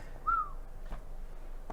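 A single short rising-falling whistle from a person, close to a wolf whistle, faint and brief over a quiet room background.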